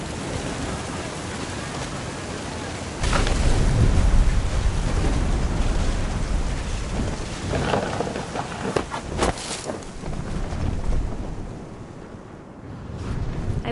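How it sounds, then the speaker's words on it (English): A thunderstorm in the video game What Remains of Edith Finch: heavy rain hiss throughout, a loud thunder crash starting a few seconds in, then further rolling rumbles and cracks, with no voices. "The thunder sounded much too close and full of angry power"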